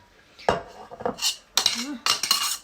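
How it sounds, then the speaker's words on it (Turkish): Metal pots clank and scrape together in a few sharp bursts as a small pot of cracked-wheat soup is emptied into a large pot, with a brief pouring and rattling sound between them, close by. "şimdi bu küçük tencere de büyük tencerenin içine şöyle boşadalım"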